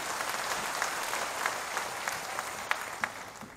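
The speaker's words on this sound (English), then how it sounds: "Give him the best clap of praise." A church congregation claps in praise during a worship sermon, a steady wash of many hands with a few sharper individual claps standing out, moderately distant and without speech.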